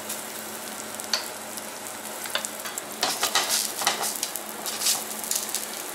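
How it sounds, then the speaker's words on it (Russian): Zucchini fritters fry in a pan with a constant sizzle, punctuated by bursts of louder crackling and spattering oil, heard up close without any talk. "обжариваем до золотистой корочки, примерно по 2 минуты с каждой стороны"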